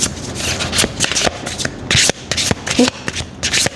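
Tarot cards are shuffled briskly and close by, a dense run of crisp riffles and slaps that keeps going for several seconds, loud and with no talking over it.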